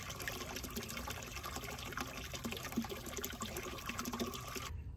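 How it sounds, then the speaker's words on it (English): Water runs steadily and splashes as it fills a cattle water trough, a continuous trickling gush with no talking. "Hard at work, filling the water trough."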